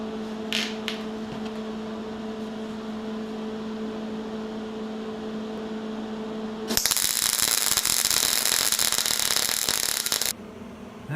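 Arc welder running a bead down the middle of a V-groove joint in thick metal, a loud steady broadband crackling hiss that starts abruptly partway through and cuts off near the end, over a low electrical hum.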